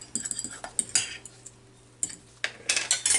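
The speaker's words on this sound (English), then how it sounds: "Mix that together right quick." Utensil scraping and clinking against a bowl while pickles are mixed into egg salad, a few quick irregular clatters, a brief pause, then another burst of stirring, close and moderately quiet.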